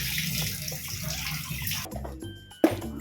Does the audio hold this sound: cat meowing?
no